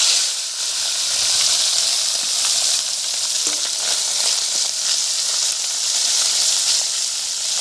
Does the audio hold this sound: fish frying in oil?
yes